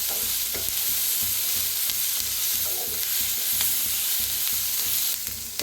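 Chopped onion, green chillies, garlic and ginger roast in a hot pan while being stirred, with a continuous close sizzle and intermittent scraping of the spoon.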